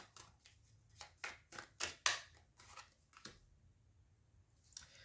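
Tarot cards handled and shuffled close up, a run of crisp papery riffles and flicks in uneven bursts, then quieter rustles, with no talking.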